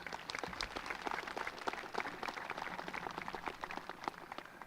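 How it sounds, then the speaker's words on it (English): A graduation ceremony audience gives a round of applause after a speaker, a faint, distant spatter of many hands clapping that stays even for several seconds. "Let's give Mr. Martin one more round of applause"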